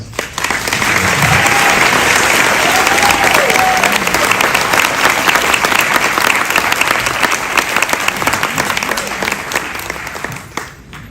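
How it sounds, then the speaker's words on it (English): An audience breaks into warm, sustained applause at a live community event broadcast on radio, loud and close, holding steady for several seconds before easing off at the end, with a faint voice briefly audible early on. "please, give a warm round of applause"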